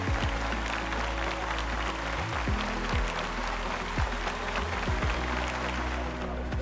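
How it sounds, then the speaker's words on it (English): An audience applauds speakers coming onto a stage in a hall. The clapping stays steady and fairly loud over a constant low hum, and no speech is heard. "Let's double up that applause."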